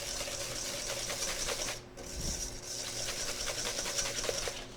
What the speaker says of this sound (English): you're just going to keep whisking it until it turns into the ribbon stage